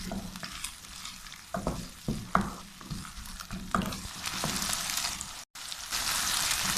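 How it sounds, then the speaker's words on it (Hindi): Ginger garlic paste frying with onions in a pan for aloo matar keema. A soft sizzle runs under irregular scraping stirs close by, with no voices. "तो अब हम इसमें डाल देते हैं अदरक लहसुन का पेस्ट। और इसको भी थोड़ा सा भून लेते हैं।"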